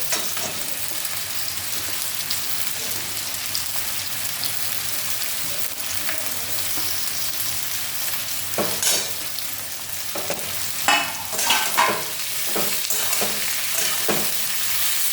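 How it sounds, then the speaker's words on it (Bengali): Pumpkin and onion fry in a pan with a constant dense sizzle, while a spatula scrapes and stirs in a cluster of sharper strokes toward the end. "কুমড়োটা ভাজতে একটু ধীরে ধীরে ভাজতে হয়, তো একটু টাইম লাগে"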